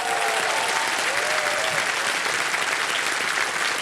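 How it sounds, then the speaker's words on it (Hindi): Studio audience on the KBC Season 16 game show applauds steadily, a dense, loud wash of clapping that holds at an even level across the whole stretch, with a faint host voice briefly audible beneath. "ताली बज जाए इनके लिए"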